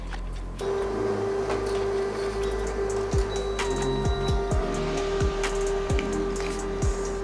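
A laser printer loaded with white toner runs a print job, giving a steady mechanical hum with a sustained tone and scattered clicks and whirring shifts throughout, close and alone.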